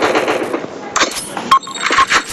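Gunfire in a mobile shooting video game: a run of fast, loud shots in a burst, then a handful of separate sharp cracks close up.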